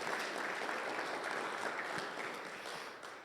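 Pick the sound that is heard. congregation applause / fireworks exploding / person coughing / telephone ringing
congregation applause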